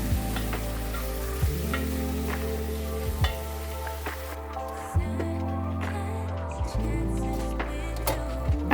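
Vegetable mixture with onions cooking in a pan for Kenyan mukimo, a steady sizzle with occasional stirring knocks of the spoon against the pan.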